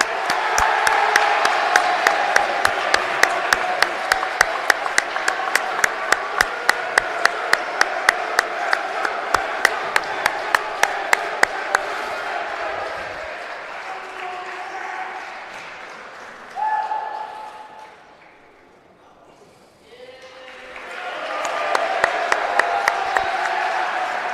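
A gym crowd at a high school basketball senior night claps and cheers in a sustained, loud burst, then fades near the end, dips to quiet, and swells into applause again.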